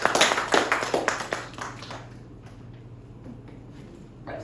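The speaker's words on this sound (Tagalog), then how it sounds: "palakpakan po natin yung Panginoon" A church congregation claps in a dense burst of applause that fades out after about two seconds, leaving quiet room tone.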